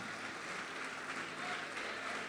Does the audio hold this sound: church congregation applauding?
yes